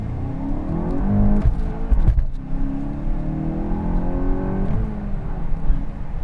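A 2022 Volkswagen GTI hot hatchback accelerates hard from a standstill, its engine note rising steadily through the gears with a brief shift break, loud and close from inside the cabin, with no talking.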